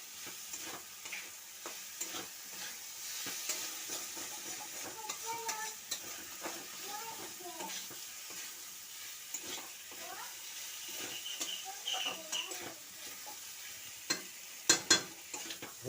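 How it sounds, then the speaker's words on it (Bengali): Fried cauliflower being sautéed in a pan, a steady soft sizzle with repeated scraping stirs of a spatula throughout, close and moderately quiet. "একটু কষে নেবো"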